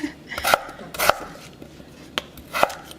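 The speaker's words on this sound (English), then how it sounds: "I give it a quick chop" Knife chopping ingredients for potato cakes with cheese: about five sharp, irregular chops on a board, close and clear, with no talking.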